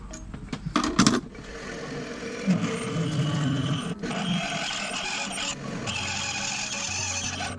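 A lathe drilling 60 deep into a metal plenum connector part, giving a steady grinding, whirring mechanical noise with a few sharper clunks near the start. It is close and fairly loud.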